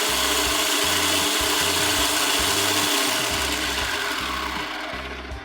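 BuzzBee Triple Mech toy blaster with six spinning flywheels, a loud continuous whirring like a vacuum or blender, stuttering slightly as it runs and winding down at the end, no talking.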